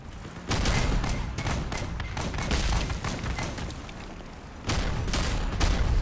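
Rapid bursts of explosive fire and gunshots from an automatic grenade launcher in the vehicle combat game Crossout, loud and dense with booming thuds, a brief lull near the middle before heavy fire resumes.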